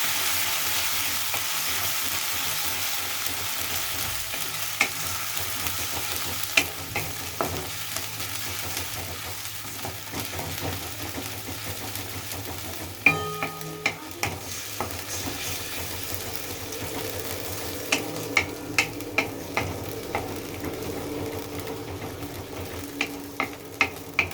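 Six or seven large garlic cloves sautéing in oil, a steady sizzle with a run of sharp metallic spoon taps and scrapes from stirring, growing more frequent toward the end, no voices.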